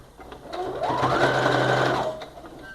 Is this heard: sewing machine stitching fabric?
yes